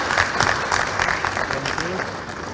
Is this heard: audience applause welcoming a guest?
yes